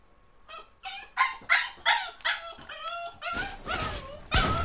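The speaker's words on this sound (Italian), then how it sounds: "Cane piangere." Dog whimpering and yipping close by in a quiet room, a run of high, wavering whines rising and falling in short cries, then more strained, breathy yelps at the end.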